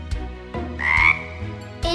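A cartoon frog croaks in a French-dubbed Cry Babies Magic Tears animated show, several loud, raspy croaks repeating in quick bursts up front over a steady musical background.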